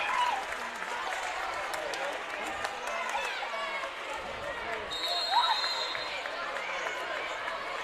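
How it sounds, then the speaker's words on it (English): Crowd applause and cheering fill a high school boys basketball playoff gym, steady and broad throughout, with sneaker squeaks, a bouncing ball and scattered voices underneath. "big round of applause also for Conrad"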